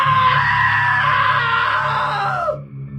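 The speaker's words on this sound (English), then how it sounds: "Now that was a great scream." A long, loud scream from a character in the video game What Remains of Edith Finch rises and holds for over two seconds, then slides downward and cuts off abruptly.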